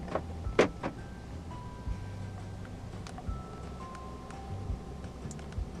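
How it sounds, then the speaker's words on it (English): Central locking on a 2015 BMW 218i Active Tourer actuates with a couple of sharp mechanical clunks near the start, then faint clicks and a soft hum inside the quiet cabin. "central locking"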